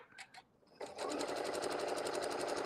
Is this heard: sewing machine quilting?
yes